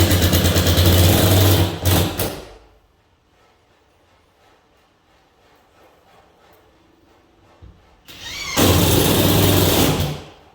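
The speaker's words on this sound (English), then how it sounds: "you want to push down on it as you're screwing up" Power driver screwing a screw into timber while repairing a plasterboard ceiling: two loud, whirring bursts of several seconds each, separated by a quiet pause.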